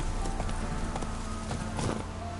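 Roach the horse galloping in The Witcher 3: a fast, steady clip-clop of hooves, close and loud, running throughout over a dense wash of background noise.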